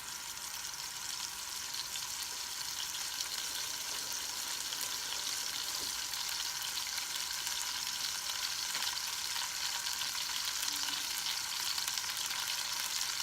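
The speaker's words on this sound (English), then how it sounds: "So I got my oil nice and hot here," Beef searing in hot oil in a pot, a continuous soft sizzle and crackle held at an even level for the whole stretch, fairly quiet and with no voices.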